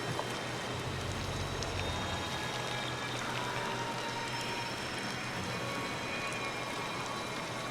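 Rain falls in the video game Disney Dreamlight Valley, making a steady, even hiss of downpour that continues without a break and without speech.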